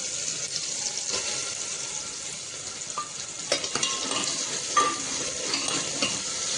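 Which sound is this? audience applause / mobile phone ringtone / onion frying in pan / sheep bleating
onion frying in pan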